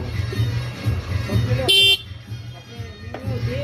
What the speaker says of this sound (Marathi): हॉर्न काय वाजत